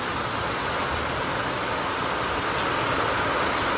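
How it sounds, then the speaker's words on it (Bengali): Heavy rain blows onto an open rooftop beside a large garden as a dense, steady, wind-driven hiss that stays loud and even for the whole stretch, with no voices. "মানে ছাদে এত জোরে ছাট আসে না"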